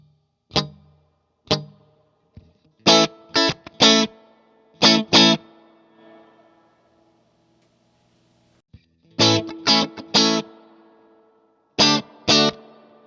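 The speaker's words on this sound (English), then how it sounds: "So let me demonstrate the reverb." An electric guitar through a TopHat Rialto Reverb amplifier plays short, choppy chords in clusters separated by pauses. Each stab leaves a lingering reverb tail that rings and fades into the gaps.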